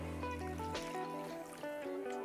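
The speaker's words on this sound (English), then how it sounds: "We're gonna add some cold water, just at the level of where the shells are" Cold water is poured into a pan of lobster shells, giving a faint, steady trickle close by that shifts in tone as the level rises.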